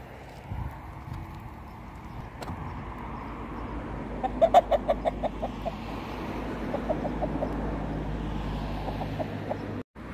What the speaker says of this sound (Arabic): هذا الدجاج، هذا الديك